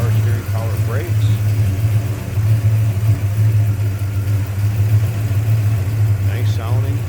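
A 1971 Pontiac GTO V8 idles with a steady, deep low rumble, close and loud, while someone talks faintly over it.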